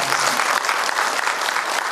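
Audience applause at a workplace awards event, a short burst of dense, steady clapping from a large crowd, loud and close.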